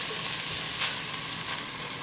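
Onions browning in a pan during a cooking demonstration, a steady close sizzle with faint crackles and a few soft stirring scrapes, no voices.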